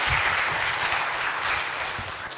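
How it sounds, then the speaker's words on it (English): Warm applause from a conference audience at a EuroPython 2017 talk session, a dense steady clapping that stays loud throughout and eases slightly toward the end. "Let's give them a warm round of applause"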